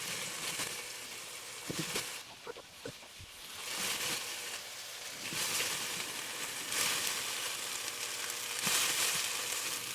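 Okra frying in oil in a pan gives a soft, hissing sizzle that swells and fades over several seconds, with a few quiet scraping clicks partway through, heard at a low level with no talking.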